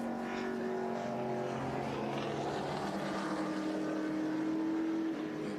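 A Dodge Viper race car on its final lap, heard as a steady, droning engine roar with a slowly shifting pitch, continuous and fairly distant throughout.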